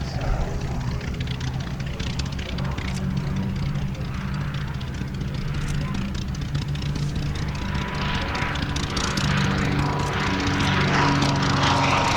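A de Havilland DH.88 Comet propeller aircraft drones steadily overhead, its engine note holding loud and continuous for the whole stretch with slight swells.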